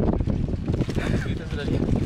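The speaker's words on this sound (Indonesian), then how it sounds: "Kencang angin kan?" Strong wind gusting outdoors during an air rifle hunt for whistling ducks, a dense, continuous roar buffeting the microphone throughout.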